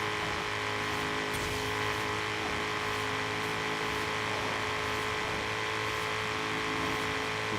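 A Ford RTR Mustang in Forza Horizon 3 holds a steady, loud engine roar as it keeps accelerating at high speed, a continuous dense drone with no talk.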